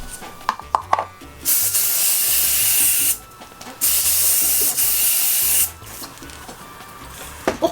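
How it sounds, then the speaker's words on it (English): Three long, loud hissing bursts of Krylon makeup setting spray from an aerosol can, each lasting a second or two, separated by short pauses with light handling clicks. "This is a Krylon setting spray."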